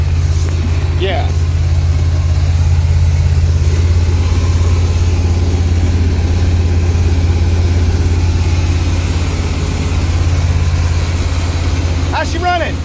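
An RV's engine drones loudly and steadily while the vehicle drives on the road, a constant low hum throughout with people talking over it.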